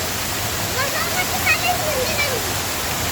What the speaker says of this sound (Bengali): সুন্দর সুন্দর পানির ঝর্ণাটা উপভোগ করবো